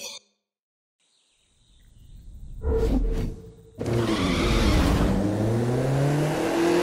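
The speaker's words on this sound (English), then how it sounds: "Now, this is me starting the race up." A race in The Crew 2 game starts after near silence, with a short beep, then loud car engines revving and roaring as the cars take off, continuing steadily.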